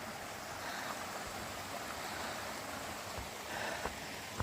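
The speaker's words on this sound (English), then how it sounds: "The trail is going to follow along this brook called Eliza Brook." Eliza Brook flowing beside a hiking trail between Kinsman Notch and the Kinsman peaks, a steady faint rushing wash of water that stays even throughout, with no voices.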